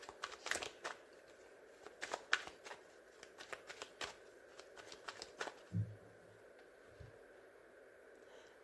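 Tarot cards being cut and shuffled on a table, producing soft papery riffles and crisp slaps in irregular bursts, close and quiet, with a low thump near the end.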